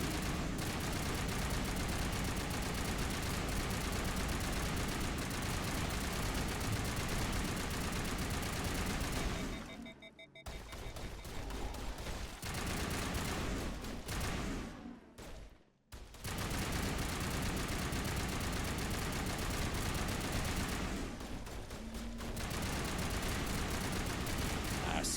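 Gunfire in the video game Mass Effect, played in a colony setting: dense, continuous bursts of automatic weapon fire and impacts, loud and sustained, with a few brief lulls.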